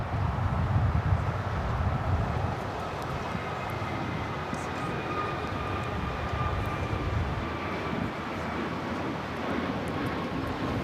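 Emirates and Asiana Airbus A380 superjumbo airliners at Los Angeles International Airport (LAX), heard as a steady, broad jet-engine roar at moderate distance that holds evenly throughout with no talking.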